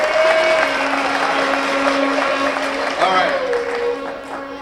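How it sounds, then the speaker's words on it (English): Applause from a studio audience for a show's co-host, a steady clapping wash running under a sustained tone and some voices, easing off toward the end. "I want to clap it up for my co-host."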